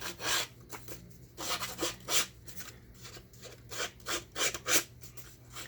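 Paper edges for a vintage memory keeper album being distressed with a distressing tool, repeated close scraping and rasping strokes in an uneven rhythm, with no talking.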